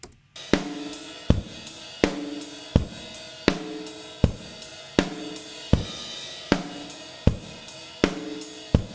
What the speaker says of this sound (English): the raw sounds without the replaced drums